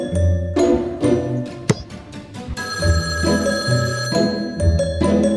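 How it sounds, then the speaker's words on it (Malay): A telephone bell rings over and over in a steady pattern, loud and close, with a sharp click near the middle and no talking. "Telefon berbunyi."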